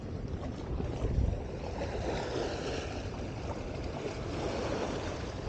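Wind gusts steadily at a fishing spot beside open water, a full, continuous rushing roar with the wash of water underneath, close and unbroken, and no one speaks.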